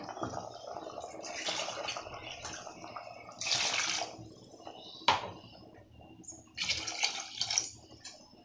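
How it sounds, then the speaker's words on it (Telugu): Water pours in irregular splashing bursts into a pot of chicken curry spiced with coriander powder, close by and fairly quiet, with short pauses between gushes. "తగినంత వాటర్ వేసుకోవాలి"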